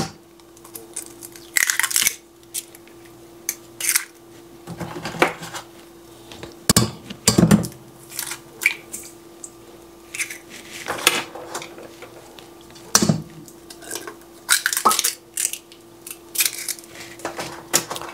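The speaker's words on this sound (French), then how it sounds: "Ensuite, je vais venir ajouter 4 œufs." Four eggs cracked one after another into a bowl for a quick holiday dessert: sharp close cracks and shell crunches come in irregular bursts, with clinks against the bowl and no talking.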